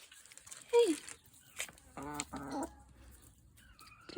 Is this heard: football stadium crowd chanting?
no